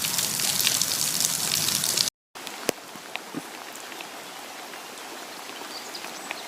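Rain falls steadily with a dense, hissing patter, then after a brief cut it continues softer with scattered individual drips and drops nearby.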